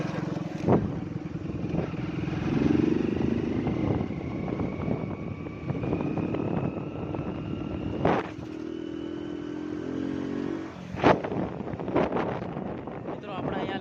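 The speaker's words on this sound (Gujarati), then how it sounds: "આપણી બાઇકનો અવાજ કંઈક આવો આવે છે" A motorcycle engine runs while riding, a steady close drone buffeted by microphone wind, with occasional sharp clatters and knocks.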